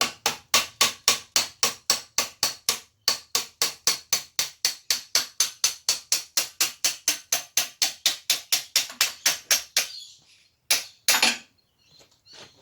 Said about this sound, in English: More gentle taps on there.